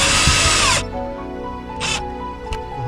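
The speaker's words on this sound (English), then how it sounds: "I'm just going to then screw them down" A cordless power drill drives loose screws back down on a van fitting, one loud sustained whir that stops abruptly, then quieter short bursts of the tool, close up with no talking.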